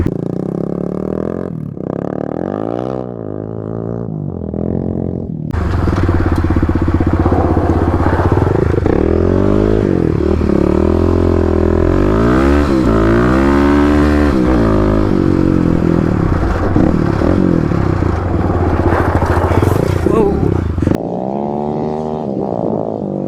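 A Kawasaki KLX 250/351 dirt bike revs hard out of corners, its engine loud and close with rising pitch sweeps as it shifts up through the gears, easing briefly at the start and end.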